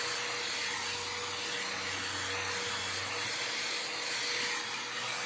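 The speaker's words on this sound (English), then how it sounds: "I'm just gonna blow dry it so that way my hair won't be wet with my extensions" A hair dryer blows steadily on hair, a constant loud whooshing rush with a faint motor whine running unbroken throughout.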